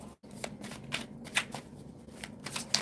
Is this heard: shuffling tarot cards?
yes